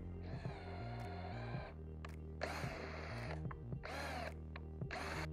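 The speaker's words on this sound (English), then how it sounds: "let's go get my drill and drill out that hole a little bit bigger." A power drill whines in several loud bursts at varying speeds while drilling out a hole in a roof rack shovel mount, with short pauses between runs.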